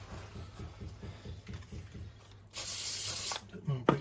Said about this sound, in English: Bit more brake cleaner.